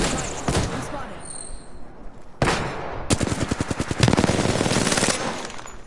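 Rapid machine gun bursts rattle in a video game battle, with long strings of closely spaced loud shots and brief pauses between volleys. Voices call out over the fire.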